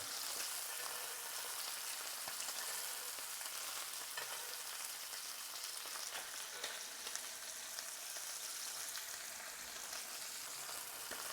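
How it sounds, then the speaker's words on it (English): Steak for fajitas frying in a pan while boiling fat is spooned over it, a steady, dense sizzle with fine crackles and pops running continuously at close range. "put some of the boiling fat on"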